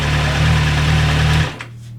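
An MV Agusta 1090R liter bike engine runs with a loud, steady buzzing drone, then the revs drop abruptly to a lower idle near the end.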